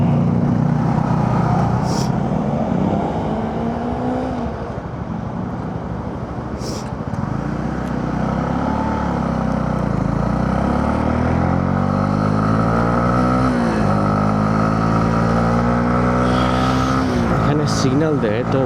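Honda CB or CBF motorcycle revving on a street in Malta, its engine tone climbing and falling in repeated pulls close by, steady traffic noise throughout and a voice talking over it.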